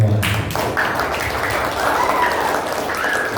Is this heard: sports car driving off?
no